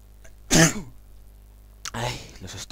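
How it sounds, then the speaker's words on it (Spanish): A single sharp, loud sneeze bursts out alone, followed after a pause by a second noisy vocal burst, over a quiet background during a Minecraft modded-game session. "Los estornudos. Casi me como el micro."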